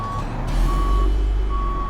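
A truck with a trailer reversing in Euro Truck Simulator 2: three evenly spaced reversing beeps over a low, steady engine rumble.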